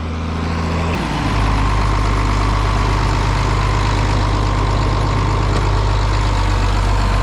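A farm tractor prepping a seedbed idles close by with a heavy, low, steady engine rumble that deepens and settles after about a second, holding constant and loud with no talk.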